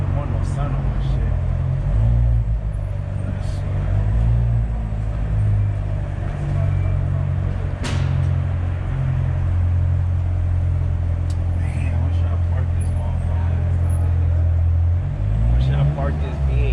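A car idles with a steady low rumble as it pulls into a parking spot at the SEMA car show in Las Vegas, the engine tone shifting slightly as it maneuvers, with people talking over it throughout.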